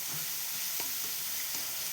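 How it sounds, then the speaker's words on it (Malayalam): Ginger browning in a pan for Kerala-style inji puli gives a steady, even sizzle of hot oil throughout, with a few faint stirring clicks and no talking. "നല്ലോണം വറുത്ത് ചോന്ന് വരണം"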